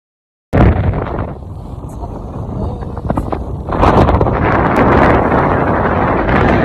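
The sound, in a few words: boat moving with wind noise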